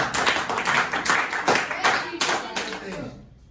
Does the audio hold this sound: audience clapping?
yes